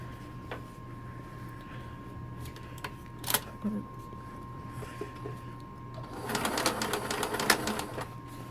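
Sewing machine stitching along an old seam line on a bookbag strap, with a steady hum and scattered mechanical clicks, then a louder run of rapid stitching near the end.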